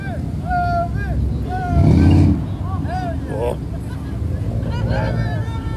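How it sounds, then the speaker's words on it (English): An older Toyota Supra with a stick shift idles and revs at an outdoor tuner car meet, a steady engine rumble swelling briefly, under a crowd's chatter and nearby talking voices. "That's an oldie. It's a Supra."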